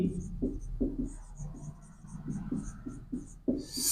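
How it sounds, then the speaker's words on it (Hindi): Chalk or pen taps and scratches across a classroom board in a quick run of short strokes as a definition for prime numbers is written out, close and fairly quiet. "डेफिनेशन लिखेंगे इसकी"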